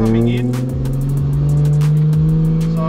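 A car entering a corner at speed on a course and understeering, its engine holding a loud steady drone up close, with faint tyre noise and no speech.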